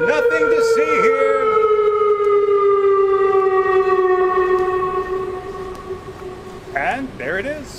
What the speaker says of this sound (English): what it's like to go through a civil defense drill here in Dongtan